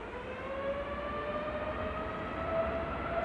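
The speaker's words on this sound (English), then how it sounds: "Here we go, 2EJ departing to Melbourne." An airliner departing Manchester Airport for Florida gives off a steady, distant jet roar with a faint, even whine riding over it, constant throughout and heard without voices.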